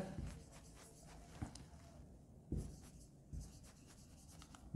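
A pen scratches and scribbles across paper in short strokes with small taps between them, close and quiet, with no talking.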